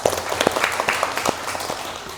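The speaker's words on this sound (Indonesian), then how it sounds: "Tepuk tangan dong." Children in a classroom clapping together, a burst of uneven hand claps that fills the room and gradually thins out, with no talking.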